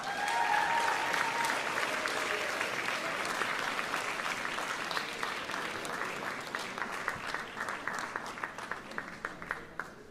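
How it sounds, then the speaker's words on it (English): Audience applause at Hofstra University's Celebration of Scholarly Excellence, a large honors ceremony: dense, sustained clapping from a big crowd that holds steady for the whole stretch and thins slightly toward the end. "I think that large, impressive group deserves one more round of applause."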